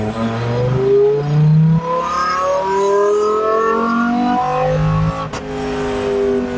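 An S85-powered BMW 1 Series drift car revs hard through its gears on a track, loud rising engine wails stepping up and dropping between shifts, with a brief sharp crack near the end.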